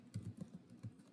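Quiet typing on a computer keyboard, a brief run of about six soft keystrokes in an irregular rhythm, heard alone at low level.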